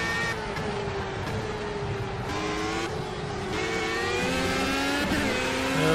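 Race car engine screaming at full throttle in the racing game Project CARS, a loud sustained whine rising through the gears with short dips at each shift, near and unbroken.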